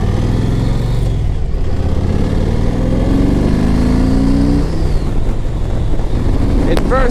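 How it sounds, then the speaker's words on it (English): A 2007 Yamaha Road Star 1700cc motorcycle pulls hard in first gear, its deep engine drone rising in pitch under heavy wind rush before easing off, recorded close while riding. "In first gear, when I get on it, I hit the rev limit too fast."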